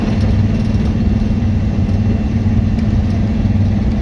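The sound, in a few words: 1986 Ford F250 engine and transmission noise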